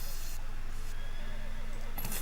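Horse whinny from the West of Loathing video game, a short neigh under a steady background music or ambience bed, moderately loud and heard once.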